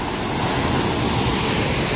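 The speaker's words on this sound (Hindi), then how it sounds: "सामने देखते हैं झरने को" Steady broadband rush of a waterfall at a secluded natural spot in South Goa, Goa, continuous and fairly loud with no break across the stretch.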